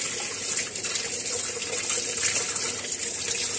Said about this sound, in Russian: Вот так вот смываем.